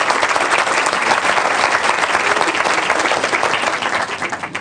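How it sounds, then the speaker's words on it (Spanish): An audience at a panel on workplace diversity gives sustained, loud applause, a dense steady roar of many hands that tapers slightly toward the end. "les pido un tremendo aplauso por habernos venido a colaborar"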